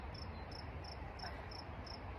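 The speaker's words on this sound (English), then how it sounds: "And just listen, there's crickets, birds." Faint, high-pitched cricket chirps pulsing at a steady rhythm, about every third of a second, over soft ambient outdoor noise at a riverside camp by the Ashnola River, with no voices.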